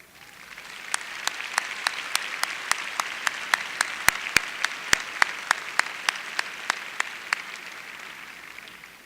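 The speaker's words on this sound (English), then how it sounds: "stand and accept the applause of these students" Students at a fall university commencement applaud the faculty: a soft, distant wash of clapping from a large crowd, punctuated by sharp, evenly spaced loud claps from someone close by.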